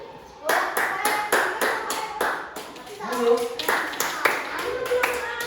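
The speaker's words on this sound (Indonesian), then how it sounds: "tepuk tangan buat kelompoknya Mas Adil" Children in a second-grade math classroom clap together for a group that has just presented, a series of sharp, rhythmic unison claps with a few young voices talking in between.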